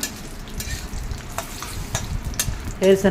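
Peanuts roast in a pan for idli chutney while being stirred, a close sizzle under repeated scraping strokes of the spoon, with a louder burst of frying near the end.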